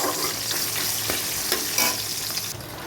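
Tomato with cumin, dried chilli, cinnamon, cloves and cardamom frying in hot oil, a loud steady sizzle broken by a few scraping stirs of the spoon, no voices.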